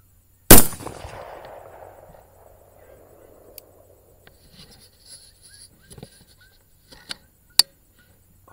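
One loud, sharp rifle shot cracks close by at a pest on a farm and fades into a long echoing tail. Fainter clicks and small knocks follow in quiet surroundings.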